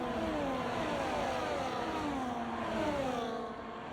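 Racing cars in a video game race, with a McLaren among them, charging through the field: a steady, loud roar of several engines revving and whining together, rising and falling as they pass.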